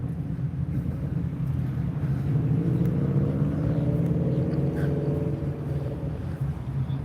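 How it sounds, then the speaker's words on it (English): A car drives by at the Daytona Turkey Run car show, a low, steady engine and road rumble that holds at a moderate level for several seconds, with faint wind noise and no voices. "Is that Tom's car"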